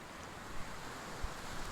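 Sea waves wash around a rock at Saltern Cove, a steady close hiss of surf with wind buffeting the microphone and no voices.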